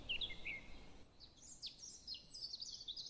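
Recorded birdsong ambience played back during a reading stream, faint chirps and whistled phrases from small birds, a couple of bright calls early and then a more continuous run of twittering, soft and distant against a quiet background.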